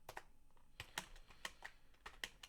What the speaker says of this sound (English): let's type the result